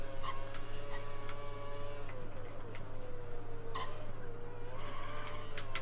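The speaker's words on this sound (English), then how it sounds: "Oh no, sliding, but we kept it under control." A Formula 1 car slides around the Bahrain Sakhir circuit in the F1 2013 racing game. The engine drones on and its pitch wavers as the car loses grip, with brief ticking accents over a constant background hum.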